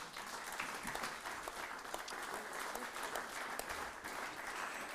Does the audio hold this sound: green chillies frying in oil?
no